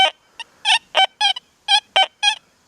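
A Deus 2 metal detector on its conventional program gives a run of short, buzzy tonal beeps, about ten separate bursts in quick, uneven rhythm, clear and close with no talk.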